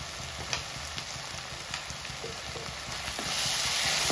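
Spice paste for spicy aloo dum sautéing in a pan with ghee, a steady close sizzle broken by light spatula clicks and scrapes, growing louder and hissier near the end.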